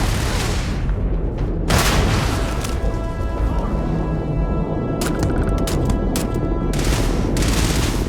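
Sci-fi weapons fire during a Starfield firefight: dense, loud bursts of shots and booms that keep coming in a heavy barrage, with sharper volleys clustered near the middle and end.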